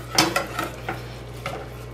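A utensil scrapes and knocks inside a pot of Egyptian-style white rice and water in a few short strokes, with a steady low hum of a stove underneath.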